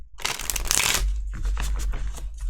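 Tarot cards shuffled by hand for an elemental spread, a dense rapid riffle that starts loud and thins into quieter separate card slaps over a low background hum.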